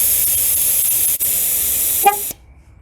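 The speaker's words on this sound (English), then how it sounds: "let some air out of the tire until you hear the horn" A GM car's horn sounds once, a short honk as tire air is let out during a tire pressure relearn, heard over a steady hiss of escaping air that cuts off abruptly.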